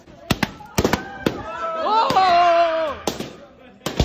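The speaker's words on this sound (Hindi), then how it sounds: "ये है असल फायर वर्क" Firecrackers going off at a celebration, several sharp loud bangs in quick bursts, with a voice calling out loudly in the middle.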